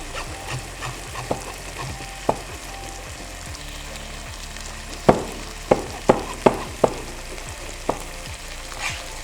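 Chicken and masala frying and being stirred in a pan, a continuous sizzle broken by a series of sharp scraping knocks of a spoon against the pan, close and fairly loud, with no talking.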